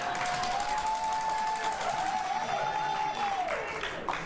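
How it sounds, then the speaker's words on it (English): Studio audience applause on a daytime talk show, a dense steady wash of clapping held at an even level for about four seconds, with a faint tone drifting through it. "Do not clap for that"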